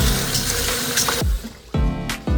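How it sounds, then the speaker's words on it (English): Rice being rinsed in a bowl of water to wash off starch, with steady swishing and sloshing of water interrupted by a few sharper splashes and pours, close and fairly loud, no talking. "we're just rinsing here until the water runs clear"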